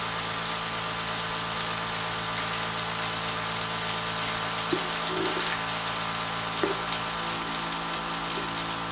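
Dehulling machine shaking perennial wheat grains: a continuous dense rattling hiss with a low mechanical hum runs throughout, loud and close, broken by a few faint knocks, with no talk.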